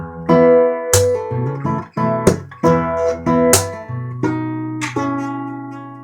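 Acoustic guitar playing a song alone, with percussive slaps on the body, each followed by a bass note and a plucked chord, in a steady rhythm.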